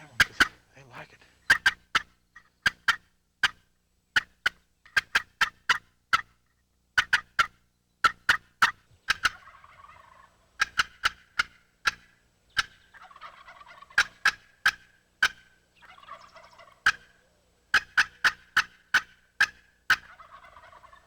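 Wild turkeys gobbling during a spring turkey hunt, several birds answering one another in loud rattling bursts with sharp clucking or calling strikes between them, fairly close outdoors.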